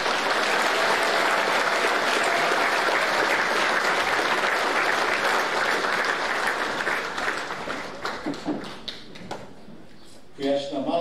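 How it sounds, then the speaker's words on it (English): Broad applause from a seated audience at a college senior prizegiving, sustained and full for several seconds before thinning into a few scattered claps and fading out. "Round of applause, please."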